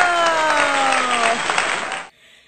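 An audience applauds after a letter is read aloud, a short dense burst of clapping with a tonal musical sound over it, cutting off abruptly near the end.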